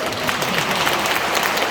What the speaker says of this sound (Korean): 부단장님 박수 한번 쳐주세요.